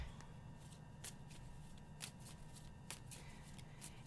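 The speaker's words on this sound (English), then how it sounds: "Joyous Ocean, the cards have to be easy to shuffle or it's really a pain." Playing cards being shuffled, quiet soft riffling with repeated brief crisp snaps roughly once a second over a faint steady background hiss.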